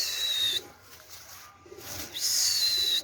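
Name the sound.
pigeons cooing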